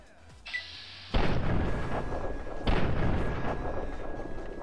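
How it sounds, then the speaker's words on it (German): Gunfire in the video game Fallout 3: two sharp, loud blasts about a second and a half apart, each trailing off into a long rumbling decay. "Dir schieße ich mal die Fresse weg."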